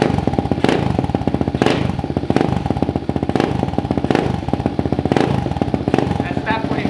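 A new dirt bike with unadjusted valves runs, smoking, its rapid engine chatter overlaid by a loud, regular valve tick and sharper periodic knocks; a voice talks over it.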